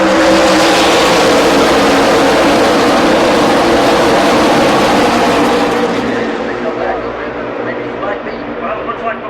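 NASCAR stock cars roar past in a dense pack at the green-flag start of the Camping World RV Sales 500, heard loud from the stands, fading slightly as they pass, with an announcer talking over it.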